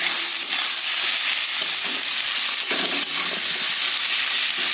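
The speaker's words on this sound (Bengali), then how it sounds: "দিয়ে আমি পেঁয়াজটাকে একটু লাল লাল করে ভাজা করবো" Onions fry with ginger, garlic and green chillies in hot oil, a loud, dense, continuous sizzle heard close up, with a few soft stirring scrapes in it and no voices.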